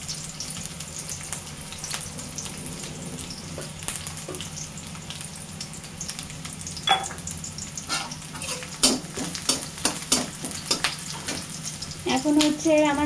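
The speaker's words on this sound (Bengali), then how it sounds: "পেঁয়াজটা আমি একদম লাল করে ভাজবো না" Onion frying in a pan for a thin drumstick curry, a steady close sizzle with a low hum, broken by sharp clinks and scrapes of stirring that grow busier toward the end.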